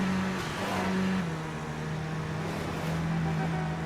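An underpowered Dodge car racing in Midnight Club 3 DUB Edition on PS2, its engine droning at a held, steady pitch with slight shifts as it cruises, continuous and fairly loud throughout.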